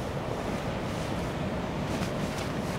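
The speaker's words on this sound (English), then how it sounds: "Oh, listen to the sea out there" Continuous surf and wind noise on a windy winter coast at night, a dense steady roar of waves washing in the distance with no talking.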